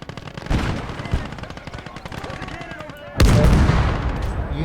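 War video game battle: rapid machine-gun bursts crackle continuously, then a loud artillery blast hits and leaves a heavy roaring rumble, with faint voices mixed in.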